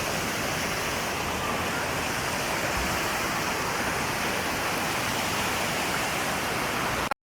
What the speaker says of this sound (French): il pleut un peu trop?